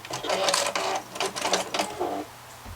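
Sewing machine stitching along the upper and lower edge of a fabric face mask, a loud, close, continuous mechanical whir that pulses in short bursts over about three seconds.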